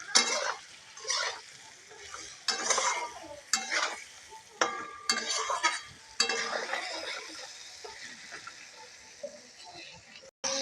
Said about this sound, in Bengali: আলু আর পটলটা ভালো করে মিশিয়ে নিয়েছি মশলার সঙ্গে।